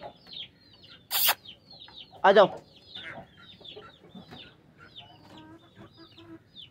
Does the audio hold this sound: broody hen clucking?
yes